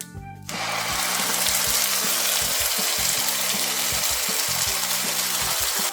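A ground raw-mango pachadi paste hits a hot tempering of mustard seeds, curry leaves and chilies, bursting after a short pause into a loud, dense, continuous sizzle that carries on without letting up.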